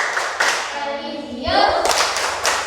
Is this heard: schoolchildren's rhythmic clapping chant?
yes